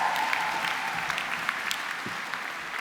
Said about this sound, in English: more thank yous, more clapping, it's not going to stop